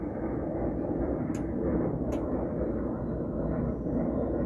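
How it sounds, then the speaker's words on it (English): An airplane passes overhead as a continuous broad roar, fairly loud and steady throughout, with a couple of faint, brief clicks in the background. "An airplane passing by right now."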